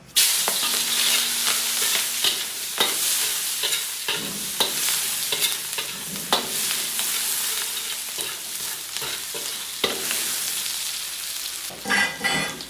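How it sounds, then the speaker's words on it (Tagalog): Garlic sautéing in hot cooking oil, a loud steady sizzle and crackle with repeated stirring scrapes of a utensil against the pan throughout, no voices. "gisa natin si Boys Bawang"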